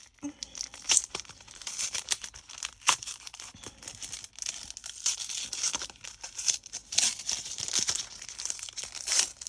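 Plastic swap package holding a holographic shaker being torn open by hand, with continuous crinkling and ripping close up and a few louder tugs.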